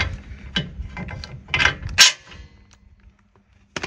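A ratchet wrench works loose the bolts on a vehicle's rock slider: several sharp clicking and clanking bursts up close, then quiet before one last click.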